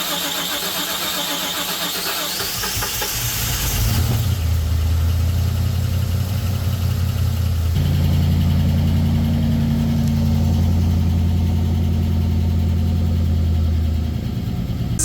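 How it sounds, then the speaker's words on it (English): A Foxbody Mustang engine that hasn't run in five or six years cranks briefly, then catches around four seconds in and settles into a loud, steady low idle, close by and alone. "this might be the moment this car actually runs for the first time in 5 or 6"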